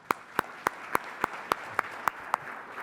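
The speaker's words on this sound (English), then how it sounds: "Another round of applause for these guys." Slow, evenly spaced claps, roughly nine sharp distinct hits at a steady rhythm, sound like one person or a small group in a quiet conference room, with no crowd roar behind them.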